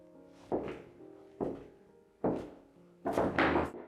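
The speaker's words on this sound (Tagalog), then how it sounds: "Sige, yung tunog ng mga pintuang to" Old doors in an abandoned fairy-tale castle knock and thud four times at roughly one-second intervals, each with a creaky rustle, the last louder and rougher, fairly close with no talking.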